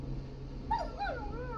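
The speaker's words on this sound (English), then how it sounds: "Is that a neighbor's dog?" A neighbor's dog in the video game Killer Frequency lets out two short, high whining yips at a moderate distance over a steady low hum, with no talk.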